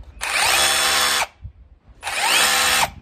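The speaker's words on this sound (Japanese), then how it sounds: "ハンマードリルな。" A hammer drill runs in combined hammer and rotation mode in two bursts of about a second each, loud and close, with a brief pause between them and no talk.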